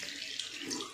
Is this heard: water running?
yes